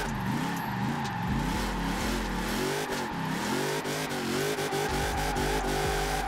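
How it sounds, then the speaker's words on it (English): A Chevy Camaro ZL1 1LE drift build in Forza Horizon 4 revs hard while drifting, its engine note climbing and dipping continuously, loud and close throughout with the pitch wavering through repeated throttle blips. "I'm gonna just take it in and enjoy this drifting session with this ZL1"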